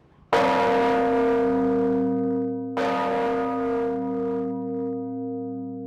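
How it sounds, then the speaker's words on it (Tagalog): Two heavy strikes of a big antique church bell, loud and close, each leaving a long, slowly fading resonant ring. "Gusto ko marinig yung tunog ng kampana"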